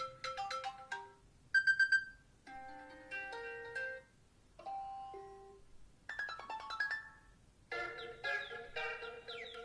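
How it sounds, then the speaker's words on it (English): iOS 7 ringtones chime from an iPhone 4 in several short, bright melodic snippets, some with rapid repeated notes, separated by brief pauses. "And this is of course ringtones just for iOS 7."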